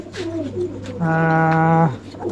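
A male pigeon coos in a loft, a short low throaty call followed by a sustained resonant coo lasting under a second, loud and close with faint room noise behind.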